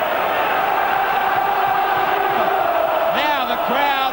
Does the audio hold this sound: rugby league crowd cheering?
yes